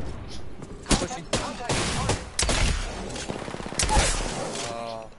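Video game gunfire cracks in a few sharp, separated shots and short bursts amid a busy firefight mix, loud and near, with a voice talking over parts of it.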